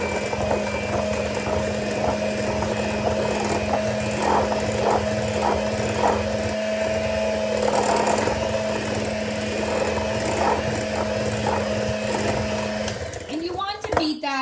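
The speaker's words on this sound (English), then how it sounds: "Again, we're using our mixer." Electric mixer whirring steadily as eggs are beaten into apple kuchen batter, a loud continuous motor drone under intermittent talk, cutting off near the end.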